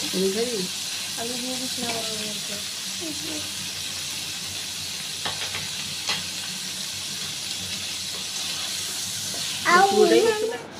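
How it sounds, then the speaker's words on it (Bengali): Paneer pieces frying in a pan on moderate heat for matar paneer give off a continuous soft sizzle and hiss, with a person talking over it at the start and again near the end. "পনির আমাদের অলমোস্ট লাল করে ভাজা হয়ে গেছে।"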